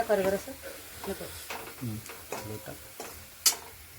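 Onion sizzling in oil in a home kitchen for a Maharashtrian okra curry, with soft frying crackle punctuated by stirring scrapes and a sharp clink near the end; a faint voice murmurs briefly.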